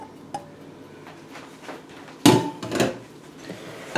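Melted butter scraped from a dish into graham crackers and sugar, a quiet tap early on, then two louder scraping clatters of utensil against a bowl near the end, close and without speech.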